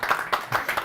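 Audience clapping at a weekend developer meetup in San Diego, several brief bursts of applause close together, fairly loud and rhythmic with no talk.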